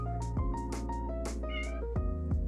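A house cat meows repeatedly up close, a quick run of short, insistent cries with shifting pitch, alone with no talking.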